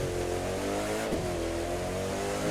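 A Koenigsegg Agera or Pagani Zonda accelerates hard from a standing start on a wet track. The engine roars loudly and continuously close by, with its pitch sweeping through a quick gear change midway.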